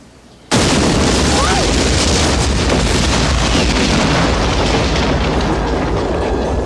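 A sudden loud boom erupts and gives way to a sustained, roaring rumble that fills the rest of the clip without fading much.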